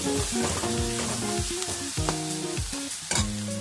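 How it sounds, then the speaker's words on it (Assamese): Turmeric and spices frying in a pan give a continuous bright sizzle and crackle, heard under a steady melodic musical backing throughout. "এতিয়া হালধিখিনি দিওঁ 1-2 মিনিট আকৌ ভাজি ল'ম"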